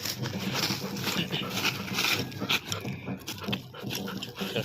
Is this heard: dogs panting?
yes